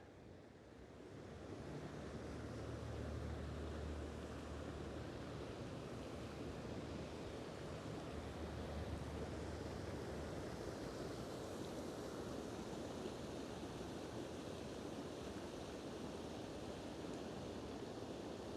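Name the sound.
water fountains on the Las Vegas Strip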